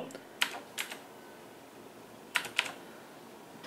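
A verification code is typed on a computer keyboard. Two quick pairs of faint key taps are separated by a quiet pause, over a low room hiss.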